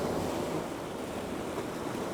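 Ocean waves washing onto the shore with a steady broadband roar, moderately faint and continuous, with some wind noise and no voices.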